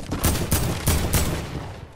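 Fortnite video game gunshots: four loud, evenly spaced blasts within two seconds, fired close by with no talk over them.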